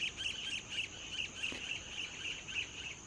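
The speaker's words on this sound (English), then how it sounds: "You hear all the birds? All the birds going home for the evening." Birds chirp steadily in the evening in high, rapid repeated calls, forming a continuous outdoor chorus with a faint background hiss.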